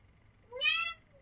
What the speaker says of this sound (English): My cat is really determined to get into the room all of a sudden